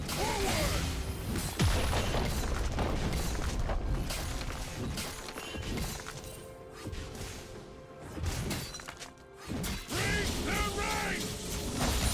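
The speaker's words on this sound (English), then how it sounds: "team's turret has been destroyed" A League of Legends turret being destroyed, heard as a dense crash with mechanical clanks and a heavy rumble over constant game noise, followed by shattering debris and whooshes.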